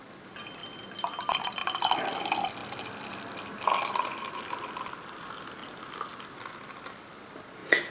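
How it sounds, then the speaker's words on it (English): Beer pours from a bottle with soft gurgling and dripping, a steady trickling stream that swells in the middle and tapers off, with a faint clink near the end. "As I'm pouring it, it does sound like a very dense beer."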